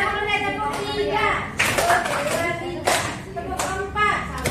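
Students in a classroom clap in short counted bursts, several hands together in a sharp, close rhythm, with a teacher's voice and children's voices between the bursts.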